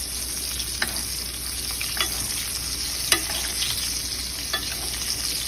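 Blackened salmon sizzles steadily in hot fat in a pan, a continuous frying hiss broken by a few sharp spoon clicks and splashes as it is basted, with no talking.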